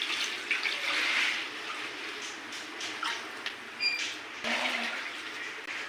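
Water poured over puffed rice in a bowl to soak it, a steady splashing pour running for several seconds with no talking, a few small knocks midway.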